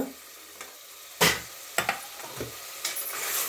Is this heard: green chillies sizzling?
yes